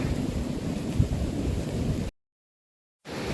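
Steady broadband hiss of rain falling in Italy, continuous and fairly loud, then a brief cutout to silence before the downpour resumes.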